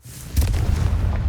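The Confringo fire spell explodes in the Hogwarts Legacy video game as a sudden deep boom with a crackling burst, followed by a rumbling tail that stays loud through the end.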